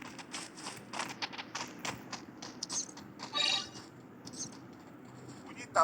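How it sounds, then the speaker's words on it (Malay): Quick, regular footsteps patter in the Free Fire battle royale game, a close run of light taps over faint background noise. "Bunyi tapak kaki sini."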